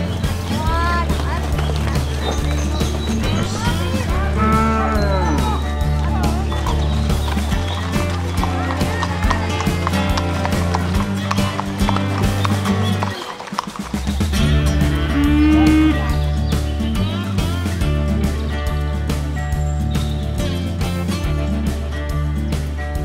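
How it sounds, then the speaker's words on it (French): A herd of Black Angus cattle raised outdoors on open pasture moos in drawn-out calls amid a loud, busy backdrop, with people talking over it and a brief dip in the middle. "on a également un troupeau de Black Angus qui sont élevés en élevage extensif"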